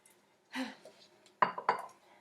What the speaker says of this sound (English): I grab 2 eggs, and I mix a little bit of milk in there with it, and I scramble it